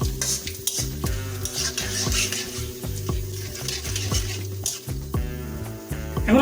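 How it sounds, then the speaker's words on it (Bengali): Whole spices, including garam masala and cumin, fry in hot mustard oil in a karahi while being stirred briskly, a loud continuous sizzle with rhythmic scraping strokes of a spoon against the pan. "এখন এগুলোকে আমরা খুঁজতে ভালোভাবে নাড়িয়ে দেবো।"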